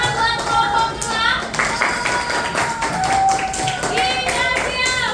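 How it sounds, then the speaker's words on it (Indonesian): Students in a classroom clap for group 2, a brisk, uneven patter of many hands mixed with voices and chatter nearby, continuing steadily throughout. "Tepuk tangan buat kelompok 2"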